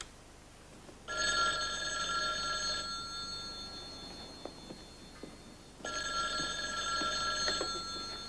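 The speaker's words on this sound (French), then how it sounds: "je crois qu'on devrait d'abord appeler Dexter au téléphone" A telephone rings indoors in two long electronic bell bursts separated by a pause, fairly loud and clear, with faint background sounds and no speech.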